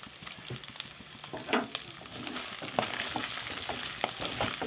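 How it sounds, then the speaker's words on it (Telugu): Chicken pieces fry in a spicy mix in a pan before it is covered, giving a continuous crackling sizzle with frequent small pops and occasional stirring scrapes close by. "వేసుకొని మూత పెట్టేసుకొని కాసేపు ఫ్రై అవ్వనివ్వాలి"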